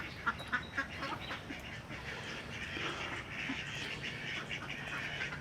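Ducks quack on a farm in the Philippines, a dense overlapping chorus of many birds at middle distance, steady and busy throughout.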